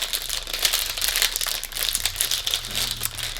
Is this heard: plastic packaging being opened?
yes